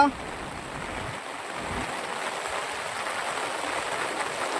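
Floodwater rushes past in a steady, unbroken roar that stays loud and even from start to finish.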